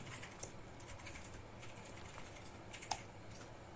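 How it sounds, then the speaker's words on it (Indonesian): Keys clatter quietly on a computer keyboard while an email is typed, a fairly fast, uneven run of light clicks that lasts throughout with no speech. "Di sini data, dan ketikkan misalkan Hai Jude"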